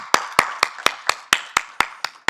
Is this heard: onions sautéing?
no